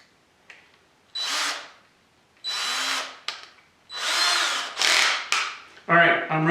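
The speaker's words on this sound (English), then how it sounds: "Alright, I'm ready to drill." A power drill boring dowel holes through a DowelMax jig in cabinet wood, running in five or six loud whirring bursts separated by short pauses, close up.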